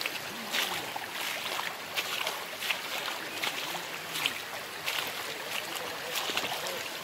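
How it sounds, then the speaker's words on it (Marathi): Cold stream water flows and gurgles near Shirgaon dam, a close, steady rushing wash broken by regular splashy surges that keep a loose rhythm throughout. "गार पाणी बघा गडगडते."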